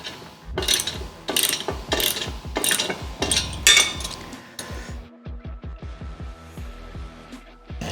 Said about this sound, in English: I'm gonna tighten it down just a little bit more.